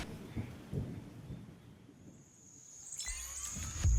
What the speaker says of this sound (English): The rain is so beautiful.